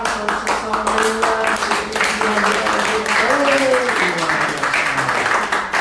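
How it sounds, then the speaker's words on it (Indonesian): Audience applause for the musicians at a church ministry gathering in Melbourne, steady clapping running through the whole stretch while sustained music tones continue underneath. "Tepuk tangan untuk pemusik kita."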